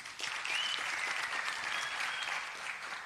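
Steady applause from an audience at the unveiling of new broadcast studios in Pretoria, with dense, even clapping that continues for a few seconds at moderate loudness.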